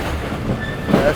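A passenger train pulls into Rohri Junction with a loud close rumble of coaches over the track and a brief wheel squeal, heard from on board.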